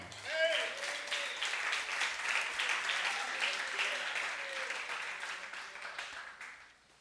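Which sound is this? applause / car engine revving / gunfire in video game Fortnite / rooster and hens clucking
applause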